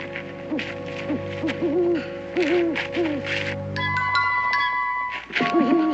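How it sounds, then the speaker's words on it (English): A hoot owl calls repeatedly in a rhythmic series of wavering hoots at night, moderately near, with a faint steady background tone and chimes toward the end. "that ain't nothing but a hoot owl."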